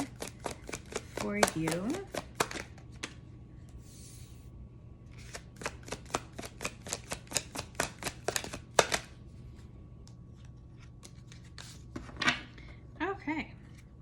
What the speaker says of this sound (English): let's grab a couple of these oracle cards